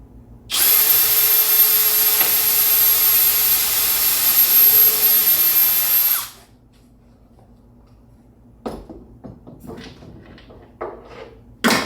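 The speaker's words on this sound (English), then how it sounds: "Now let's try drilling the hole." A power drill bores a hole through a DIY teardrop camper trailer in one loud, steady whine lasting several seconds, then stops, followed by quieter knocks and handling clatter.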